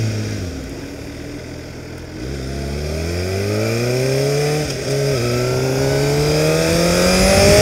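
A car engine climbs steadily through rising gears as it accelerates onto a freeway on a hot day, a loud close drone with a brief dip at a shift.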